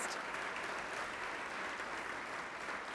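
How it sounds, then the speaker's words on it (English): Steady round of applause from an event audience honoring past honorees, a continuous even patter of many hands clapping at moderate level throughout. "please stand and let us give you a round of applause"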